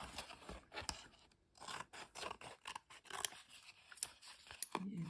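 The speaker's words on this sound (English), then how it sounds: "It would be a good thing to let it dry a little before you cut it, but I haven't time for that here, so I will just cut." Scissors snip through paper in a quick irregular series of close, crisp cuts, trimming the edges of a craft piece after it has been painted, with no one talking.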